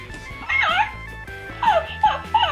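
A Zoomer Zuppies interactive robotic toy puppy gives close, clear electronic yips, barks and whimpers in several short bursts with gaps between them.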